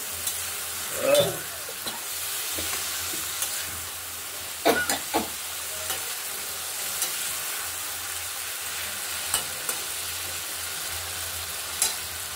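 Pointed gourd sizzles steadily in hot oil, with a few sharp scrapes and clinks as it is stirred now and then.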